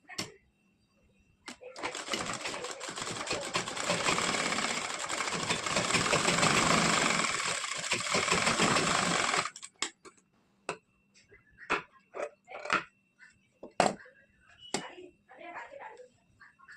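Domestic sewing machine stitching a folded piping seam on a three-piece princess-cut blouse: a steady, loud whirring run of about eight seconds, then scattered clicks and handling noises, with no speech.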